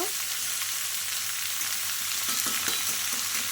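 Mixed vegetables for a niramish ghyat fry in a pan with a steady, close sizzling hiss, joined by faint stirring scrapes and light taps partway through.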